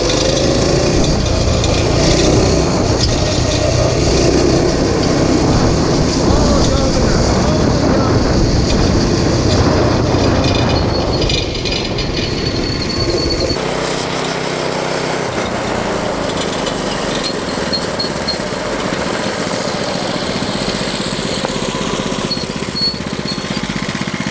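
A governed mini bike engine runs at top speed, a loud rough buzzing drone with heavy wind rush throughout, easing slightly in pitch and loudness past the midpoint, heard up close from an onboard camera.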